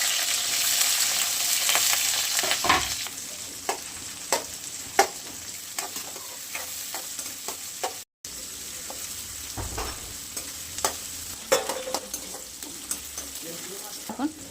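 Onion frying in oil with mustard seeds and cumin, with a steady sizzle under repeated spatula scrapes and taps against the pan, close by and moderately loud, one brief dropout midway, and no speech.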